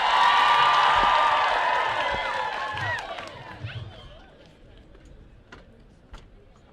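An audience applauds and cheers for Mama Kanairo at a Nairobi gathering, loud whoops and clapping swelling at first then fading away, with a speaker's voice over the crowd.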